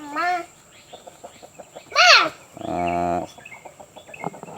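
Burmese chickens cluck close by in short repeated calls, with a loud squawk and a drawn-out buzzy call breaking through.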